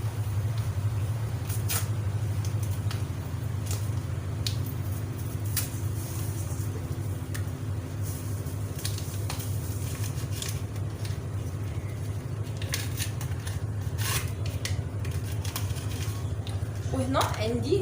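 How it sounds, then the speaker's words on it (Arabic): A kitchen mixer runs during the making of a cream dessert, giving a constant low motor hum throughout with occasional faint clinks and bumps nearby. "غادي تسمعوا شويه ديال الصداع ديال لا ماشين، الماكينه ديال الصابون"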